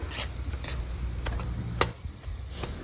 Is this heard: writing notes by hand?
no